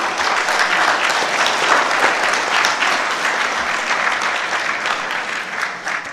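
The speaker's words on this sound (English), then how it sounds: "Please give them a warm round of applause." Warm audience applause at the close of a panel discussion on PR for blockchain ventures, a continuous even wash of clapping throughout, loud and close.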